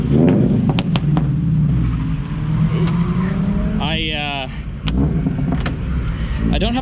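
Supercharged Toyota AE86 engine, a BEAMS-swapped drift car without its front bumper, idles and revs with a steady loud drone throughout, with one sharp rising rev burst and a few clicks, while a person talks over it.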